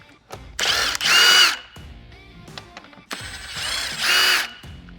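A power tool spins out two 15 mm bolts from the bottom of a Polaris RZR XP's factory front cover. Two separate loud, whirring bursts sound up close, each rising to a higher-pitched whine before cutting off.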